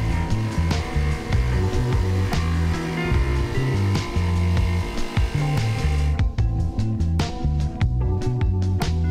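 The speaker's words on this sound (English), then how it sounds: "So I now need to cut this piece out down here." Power tool cutting a piece out of the body shell of a Honda Type R mini supercar build to clear room for a roll cage, a steady buzzing grind running loud throughout with sharp clicks near the end.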